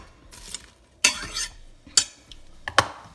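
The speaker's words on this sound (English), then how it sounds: "I'm just gonna stir this around" Vegetables being stirred in an Instant Pot, four or five sharp scraping knocks of a utensil against the pot, spaced about half a second to a second apart, with quiet gaps between.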